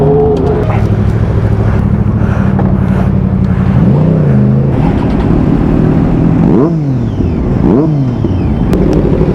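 Superbike engines, an Aprilia among them alongside a 675 triple and a Harley, on a group ride; loud continuous engine drone with rising and falling revs, pitch sweeps near the end, and wind buffeting throughout.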